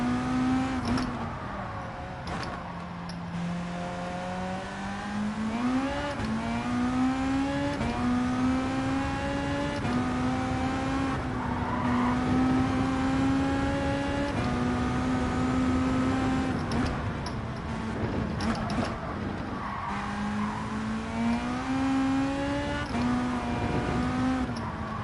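A Volkswagen Beetle engine in Gran Turismo 7 hums and revs steadily, its pitch rising and falling through gear changes, with no voices.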